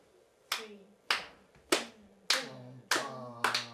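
Hand claps ring out in a string quartet rehearsal class, six sharp separate claps spaced about a second apart, fairly close, with a sustained instrumental tone lingering underneath between them.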